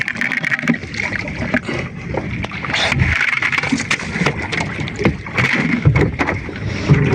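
A small boat creaks and knocks as it rocks on the water, with steady wind and splashing noise throughout, close to the microphone.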